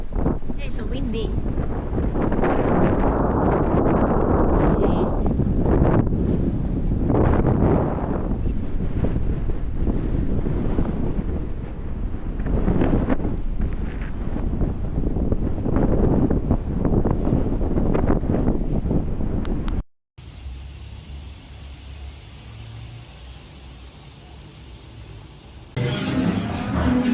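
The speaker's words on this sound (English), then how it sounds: "so windy" Strong wind roars across the microphone at a coastal headland, loud gusty buffeting with rising and falling surges, then drops to a quieter steady rush after a brief cut.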